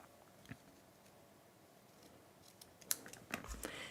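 Scissors trim ribbon ends on a small Valentine's treat holder, giving faint, close, crisp snips: one isolated cut early on, then a quick cluster of sharper snips near the end over a quiet background.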